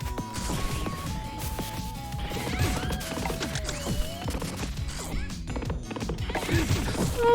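Sausage horses gallop in Pizza Tower amid busy game sound effects and music, with clip-clop hoofbeats, smashes and whacks layered throughout at steady loudness.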